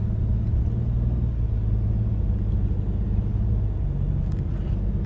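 Car driving along a road, a steady low engine and tyre rumble heard from inside, continuous and fairly loud with no talk.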